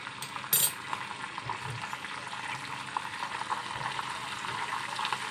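Onion and ginger-garlic paste sauté in butter in a pan for paneer butter masala, giving a steady close sizzle with a brief louder hiss near the start and soft stirring scrapes underneath.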